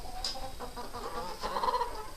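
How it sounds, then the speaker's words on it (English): Faverolles chickens, a French breed, cluck and murmur in a winter coop, several soft calls overlapping at moderate distance, with one sharper squawk near the start. "The Faverolles chicken, French type."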